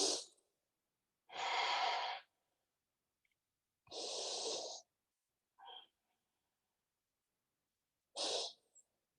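During a Pilates exercise with weights, a person takes slow, deliberate breaths in and out. Four long, airy breaths are spaced with quiet gaps between them, and a few softer short ones are heard close to the mic.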